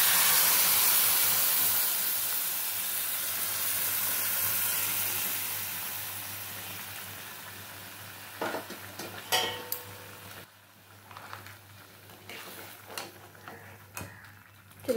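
Hot curry hisses and steams as warm water goes into the pot, a loud sizzle that fades over several seconds, followed by a few clinks and scrapes of utensils against the pot.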